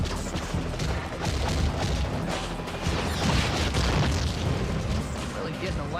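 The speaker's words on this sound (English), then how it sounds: "Bombs away, pest!" Bombs go off in the Spider-Man 3 PS2 game, giving a continuous roar of booming blasts and rumbling debris throughout, with a voice speaking over the din.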